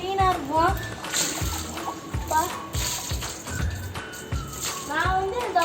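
Water is tipped from a container onto a bicycle being washed, giving repeated splashes and sloshing pours at intervals, close and fairly loud, with someone talking and a voice in between.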